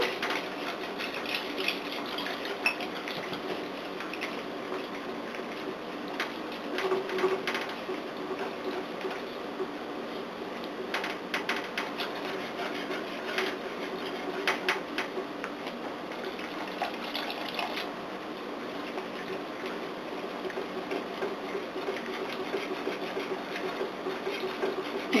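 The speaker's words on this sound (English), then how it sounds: "I got my cake mixer" An electric cake mixer with a whisk mixes biscuit batter in a skillet, giving a steady, fairly faint mechanical whir with scraping clicks that runs throughout.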